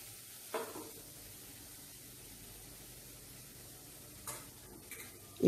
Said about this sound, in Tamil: இப்போது இந்த கேரட் நல்லா வறுபட்டுருச்சு